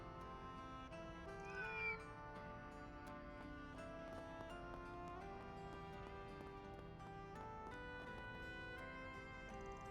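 Cat meowing in the video game Trails Through Daybreak, a short mewing call around two seconds in, set against steady melodic game music that continues throughout.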